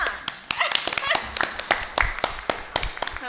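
A small group at a school board meeting claps for a few seconds, quick uneven hand claps close to the microphone with a voice briefly underneath.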